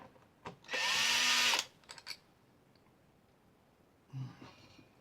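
A power drill backs screws out of the neck of a Harley Benton TE 90FLT VW Deluxe Series guitar, with one close, loud whirring burst of under a second, followed by small clicks and a faint later rattle.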